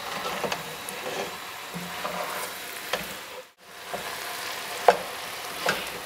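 Flour sizzles steadily in a pot for ham and corn chowder, a constant frying hiss broken by occasional scraping stirs and one brief pause.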